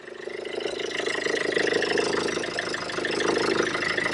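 Land Rover Freelander 2 diesel with failed glow plugs idles just after a very cold start, a steady mid-pitched clatter at moderate level, heard alone.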